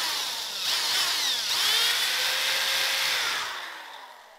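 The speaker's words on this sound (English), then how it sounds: "So we'll just go ahead and drill our last hole in the foot" A power drill whirs steadily as it bores a hole through the wooden foot of a toy robot, pitch rising and falling with the load before winding down.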